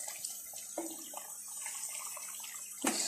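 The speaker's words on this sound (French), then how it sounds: "Et je m'apprête à rajouter de l'eau." Water poured into a cooking pot holding a sheep's head and chickpeas, a steady splashing stream, close and fairly quiet, with a couple of sharper splashes.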